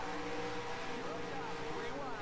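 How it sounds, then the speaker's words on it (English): A race car engine in the video game NR2003 with a flickering throttle, a continuous droning whine that wavers in pitch, steady and moderately loud throughout. "my throttle is being really annoying. You can just hear it kind of flickering."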